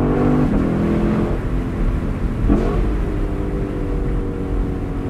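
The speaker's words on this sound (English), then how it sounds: "At least you can rev them out on the downshifts, and the blips are just wonderful." A 2021 Jaguar F-Type R AWD Convertible or 2022 Lexus LC 500 Convertible engine, heard from inside, revving loudly and continuously with sharp throttle blips on downshifts and a pitch that rises and falls.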